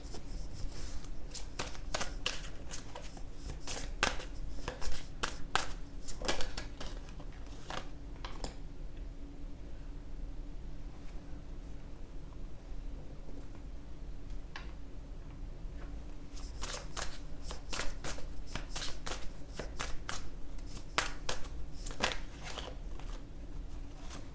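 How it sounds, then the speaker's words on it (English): Tarot cards being shuffled and pulled, with bursts of crisp riffling and snapping card clicks at the start and again near the end, a quieter shuffling stretch in the middle, steady close handling noise throughout. "now I'm gonna pull some more cards to see what else we have"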